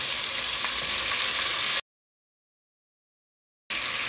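Garlic fries in hot bacon fat in a pan for feijão tropeiro, giving a steady close sizzle that cuts out abruptly and then starts again.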